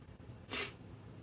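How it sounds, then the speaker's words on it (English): One short, sharp nasal sniff from someone with draining sinuses stands out as a brief breathy burst near the middle, over quiet room tone. "I'm sniffling a lot"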